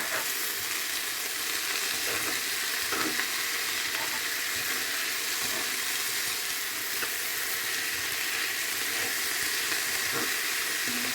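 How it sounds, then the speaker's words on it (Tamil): Basella greens sauté uncovered on low heat in a pan for a toor dal curry. A steady, close sizzle and hiss carries on throughout, with faint stirring scrapes. "மூடாமல் இப்படியே மெதுவான சூட்டில் ஒரு 7-10 நிமிஷம் வதக்க வேணும்."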